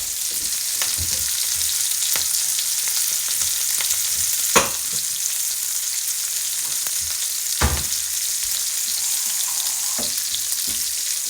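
Bacon and Brussels sprouts sizzle steadily in a hot pan, a dense hiss with occasional sharp pops and stirring clicks, close and continuous.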